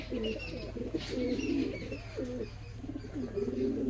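Pigeons at a market coo repeatedly in low, rolling calls, fairly close, over a steady background hum with no talk.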